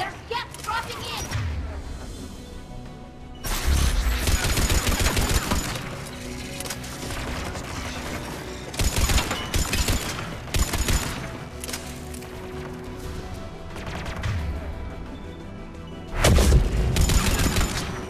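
Gun turrets firing in the video game Mass Effect 3, repeated loud bursts and booming volleys with dense crashing impacts, dropping between clusters, with voices speaking over the action.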